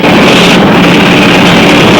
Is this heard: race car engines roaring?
yes